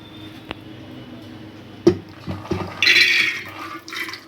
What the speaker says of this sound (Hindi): अब मैं इस पानी को चेंज कर रही हूँ, इसमें सोडा डाल के मैंने भिगोए थे।